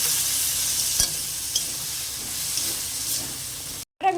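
Prawns sizzle and fry in a pan with ground spice paste while spice water is trickled in, giving a steady close hiss with a few clinks of stirring before the sound cuts off briefly near the end.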